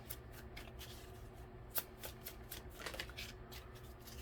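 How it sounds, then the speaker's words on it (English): A deck of tarot cards is shuffled by hand in a steady, quiet riffling and sliding that runs throughout, close up with no talking. "One more shuffle"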